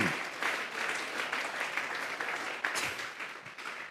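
A church congregation at a worship service claps as an offering of praise, a dense, steady wash of many hands applauding together throughout, fairly loud and filling the room.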